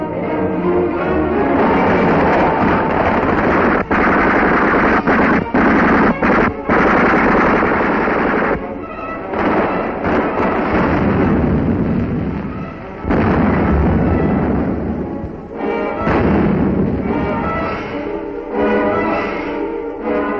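Dense wartime battle din from a 1943 newsreel river crossing under enemy fire: continuous loud machine-gun bursts and gunfire with heavy booms, sustained almost throughout with only brief dips.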